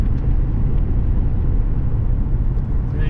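A 2004 Ford Thunderbird accelerates up to 60 mph, its engine and road noise forming a loud, steady low rumble heard from inside the cabin with no voices.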